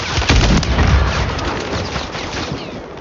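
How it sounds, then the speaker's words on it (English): Sniper rifle shot in Call of Duty Warzone on Rebirth Island: a loud close blast early on, followed by a rumbling, fading tail and dense ongoing combat noise. "I just sniped someone."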